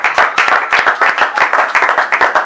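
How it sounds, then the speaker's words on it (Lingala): A church congregation claps together in a fast, regular rhythm, loud and close, the claps forming a steady pulse with no voices over them. "Est-ce qu'on peut acclamer?"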